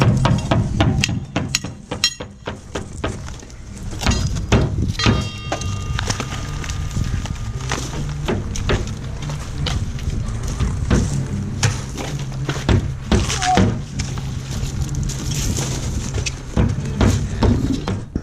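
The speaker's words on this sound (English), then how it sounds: "Boys are busy at work stripping all the forms." Workers stripping concrete formwork on a construction site for an ICF building, with dense, irregular hammer blows and wooden bangs and clatters of boards, close and steady throughout.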